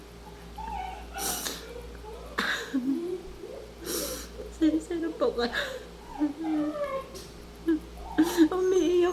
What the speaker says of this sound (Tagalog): Umiiyak yung isang aso ko kasi nandun ako eh.